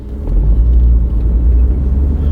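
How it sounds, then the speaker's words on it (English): An old Toyota car pulls away on a road test, its engine a loud, close, rumbling drone that swells as it starts moving and then holds steady as it rolls along. "So we'll take it for a spin and see how it goes."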